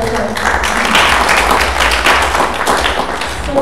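A crowd at a showcase day claps for itself in a full, sustained burst of applause, loud and even, with some low rumble and faint voices mixed in.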